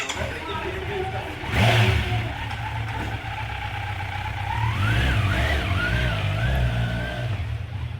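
A 2024 Kawasaki Z900 motorcycle on a test ride: a steady low engine drone rises into a revving climb, with wind rush and someone speaking over it near the start.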